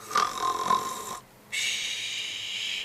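A voice imitates a snore during a children's storytelling: one loud, raspy inhaled snort, a brief pause, then a long whistling exhale, close and clear.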